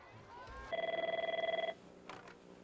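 A telephone in a television newsroom rings once, a loud, bright, rapidly trilling bell lasting about a second before quiet room tone returns.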